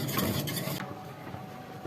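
Spoon stirring strawberry custard in a pan over a very low flame, with soft scraping and swishing that is busier at first and then settles into a quiet steady rub.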